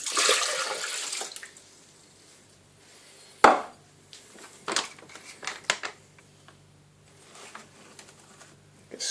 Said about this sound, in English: Chuck that water in.